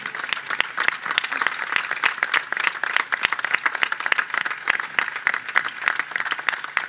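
Dense applause from an audience at a folk music parranda performance in Telde, Gran Canaria, given for a singer named Paula; a steady, continuous wash of many hands clapping with no talk over it.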